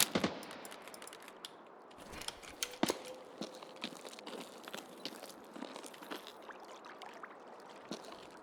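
Distant gunfire in the Escape from Tarkov video game, faint scattered shots and short bursts cracking irregularly over a low ambient background, with no talk.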